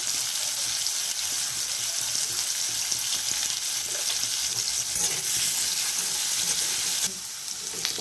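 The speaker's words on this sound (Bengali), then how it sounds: "আলুগুলো ভাজা হয়ে গেছে এবার আমি তুলে নেবো" Potatoes fry in hot oil for a cauliflower, potato and prawn posto curry. A dense, continuous sizzle holds steady at close range, with a brief dip near the end.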